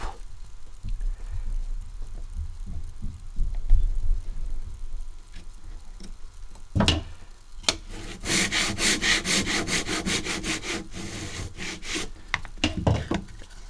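Wood is hand sawn for a kumiko lattice, starting with soft scraping and rubbing. After a sharp knock, quick rhythmic rasping saw strokes follow up close and fairly loud, with no talk.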